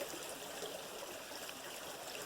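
Creek water runs beside a freshman dormitory on a university campus, a soft, steady trickling flow heard close and continuous with no talking.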